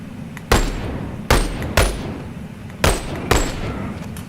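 Sharp, loud gun-handling clacks and bangs sound in a VR shooter, five distinct impacts spaced irregularly over a few seconds, each with a quick decay, with no voices over them.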